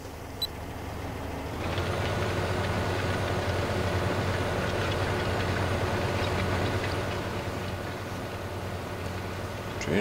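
A train rumbles past a farm wheat field, a steady broadband roar swelling in after about two seconds and holding fairly loud and continuous to the end, with no talking over it.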